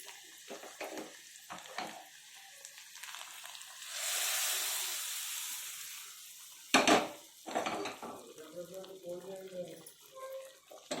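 Hot tempering of oil and spices poured into raw mango dal gives a loud burst of sizzling and hissing near the mic, briefly rising and fading, with kitchen clatter and a voice talking around it.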